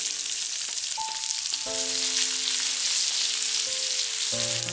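Garlic and green chilli frying in a pan for a red spinach cutlet, a continuous hissing sizzle with a few brief clinks and tones of utensils underneath, and no talking.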